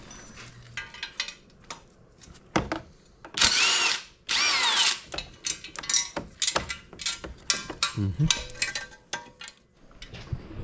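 A power tool drives bolts while fitting a bumper onto a 2021 Polaris RZR Pro XP 4, with short whirring bursts, ratcheting clicks and metallic clatter close by in an irregular rhythm, no talk.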